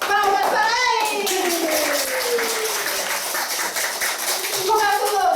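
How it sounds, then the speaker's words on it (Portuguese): Children clap together at a school storytelling session in Sítio Caroá, a brisk burst of many small hands under excited kids' voices and an adult talking. "Palmas para ele!"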